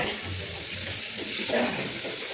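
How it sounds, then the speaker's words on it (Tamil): Tomatoes sauté in a pan for biryani, giving a continuous soft sizzle and crackle with faint stirring, fairly quiet and close. "தக்காளி வதக்கவே மாட்டேங்குது"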